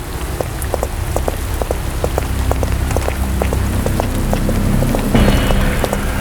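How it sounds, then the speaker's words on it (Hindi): Heavy rain pours down on a village at night, a continuous loud hiss of drops drumming on surfaces, with scattered sharper splats and a slight swell toward the end, and no voices. "बारिश अब पहले से भी तेज हो चुकी थी।"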